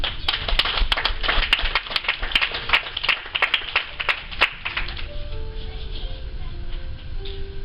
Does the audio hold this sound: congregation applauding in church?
yes